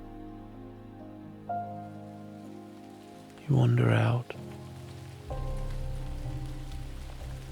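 Soft rain falling in a quiet dark-fantasy scene, a gentle continuous patter that sits low beneath a calm narrating voice, with a brief louder burst in the middle.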